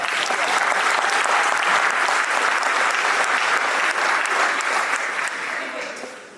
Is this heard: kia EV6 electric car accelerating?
no